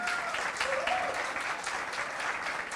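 A group applauding administrator Jorge Adegas at an administrators' event in Macaé, a dense, even clapping lasting a few seconds at moderate distance, with faint voices underneath.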